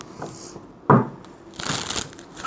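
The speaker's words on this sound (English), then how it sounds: "Give it a last shuffle" A deck of tarot cards gets a final shuffle, with two quick papery bursts of riffling and crinkling close by, the second one longer.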